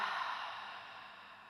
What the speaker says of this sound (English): And then we can exhale out through the mouth. Let it all go.